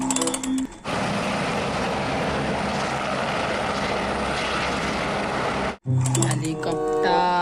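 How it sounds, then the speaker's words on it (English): Helicopter flying, a loud continuous rotor and engine roar that starts abruptly and holds steady for several seconds before cutting off, with a voice speaking briefly before and after. "nice helicopter"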